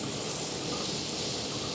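Onions, ginger, garlic, green chili and curry leaves sautéing in oil in a pan for a Kerala chicken dish, a steady, close, even hiss and sizzle throughout with no talking.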